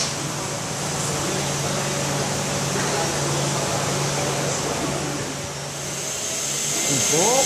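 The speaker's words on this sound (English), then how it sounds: "Now our drive shaft goes from the welding fixture to the balancing machine." A huge driveshaft balancing machine for high-performance driveshafts running, a loud steady mechanical whir with a low hum that swells slightly, then a rising tone as it changes speed near the end.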